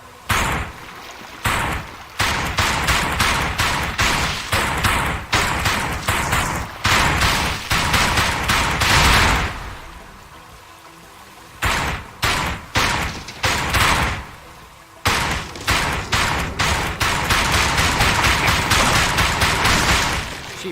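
Enemies open fire in the VR shooter Dick Wilde 2, loud rapid bursts of gunfire in repeated volleys, pausing briefly before another stretch of close, dense shots.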